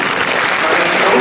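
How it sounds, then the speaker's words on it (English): Audience applause at a Toronto innovation talk, a close, loud, dense burst of clapping from a crowd lasting about a second. "So this is Solange, give this young lady a round of applause."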